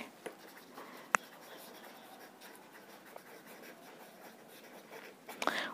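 A pen scratches steadily across paper while a math solution is worked out, giving soft, close, continuous scribbling with a few sharper taps.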